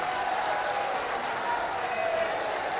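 Dense applause from a crowd, steady and sustained across the whole stretch, with a faint voice in the background.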